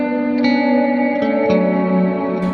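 An electric guitar picks out sustained single notes and melodies through a big reverb with pre-delay, each soft attack followed by a long, lush wash of ringing tails that fills the space between notes.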